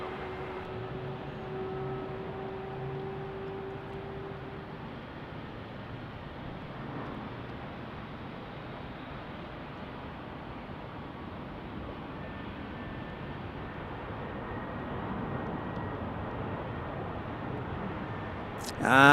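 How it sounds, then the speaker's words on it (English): An Airbus A321 jet arriving at Salt Lake City airport gives a faint, distant, steady engine roar that swells slightly toward the end, with a person talking nearby. "as we get an A321 arriving on runway"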